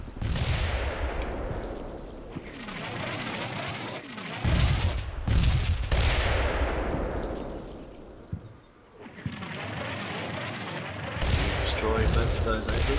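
Artillery fire in the video game Combat Mission Cold War: sustained rumbling barrages and repeated booming impacts, loud and dense, with a few sharper blasts standing out over a constant roar of battle.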